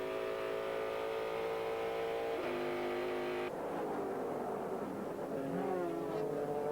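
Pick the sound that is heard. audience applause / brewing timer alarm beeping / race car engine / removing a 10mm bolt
race car engine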